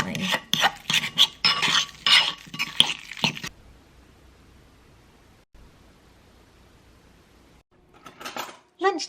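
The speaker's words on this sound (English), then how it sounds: "And then to finish, a sprinkling of smoked paprika, which I am going to mix in" Smoked paprika is mixed into food in a bowl, with close clinks and scrapes of a utensil against the bowl in quick bursts, then near silence, then a few more scrapes.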